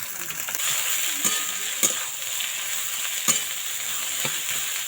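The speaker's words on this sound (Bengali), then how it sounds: "এখানে দুটো আলু সিদ্ধ করে নিয়েছি এবার দিয়ে দেব গাজর কুচি বাঁধাকপি কুচি" Chopped carrot and cabbage cook in a pan with boiled potatoes, giving a steady frying hiss broken by a few sharp scrapes and knocks from the spatula.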